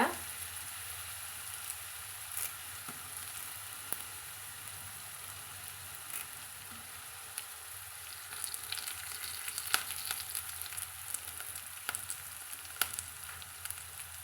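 Broad beans and curry leaves are stir-fried in a pan, producing a continuous soft crackling sizzle with scattered sharper pops and occasional stirring scrapes, fairly quiet throughout.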